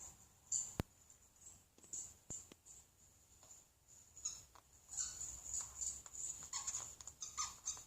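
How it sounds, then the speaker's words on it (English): Dog sounds from a video being played back: faint whimpers and small yips in quick irregular bursts, with a couple of sharp clicks early on and no voices. "So I'm watching a video of a dog I watched last week."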